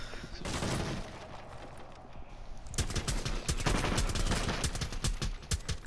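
Sustained suppressing gunfire in Rainbow Six Siege, a brief burst early on, then after a short lull a dense rapid string of sharp automatic shots that runs to the end.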